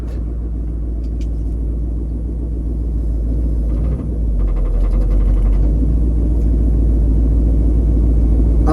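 Old highboy pickup truck engine idling and rumbling loudly without a muffler, a steady deep drone that grows slightly louder partway through, with no talking.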